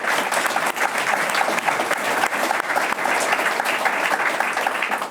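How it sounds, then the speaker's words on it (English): An audience at a cycling team presentation for Team SD Worx-Protime applauds loudly and steadily, a dense wash of clapping hands with no voices over it. "Can I get a big applause for Christine and Chantal, and of course Dan"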